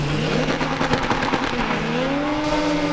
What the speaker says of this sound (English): It's very low in revs again, Austin slowing down significantly.